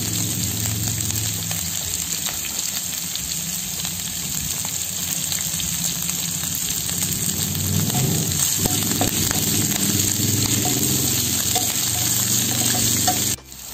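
Green chillies and curry leaves hit a pan of browned garlic, setting off a loud, steady crackling sizzle that runs unbroken for about thirteen seconds with faint stirring underneath, then stops abruptly at the end.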